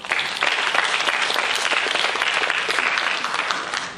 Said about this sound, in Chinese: 我们是不是掌声欢迎我们的陈顾问？